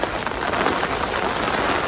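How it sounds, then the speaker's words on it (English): Steady rain falls in a warm southwesterly downpour at a fishing spot, a dense continuous patter of drops close by with no voices. "Rain's coming in from the southwest,"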